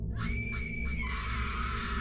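A long, high, shrill scream rings out in a horror story, holding for about a second before breaking off and fading over a low, steady droning bed.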